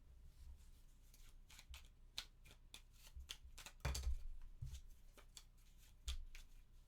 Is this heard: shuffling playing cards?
yes